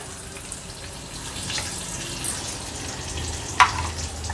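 Chili, curry leaves and cumin crackle and sizzle in hot oil as a tempering, a steady frying hiss with a soft sharp pop near the end.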